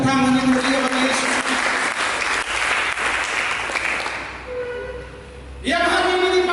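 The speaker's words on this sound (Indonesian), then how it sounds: "Coba berikan tepuk tangan yang meriah bagi Yesus" A church congregation applauds loudly and steadily for several seconds during a Sunday worship service, with sustained keyboard tones heard before the clapping swells and again as it fades.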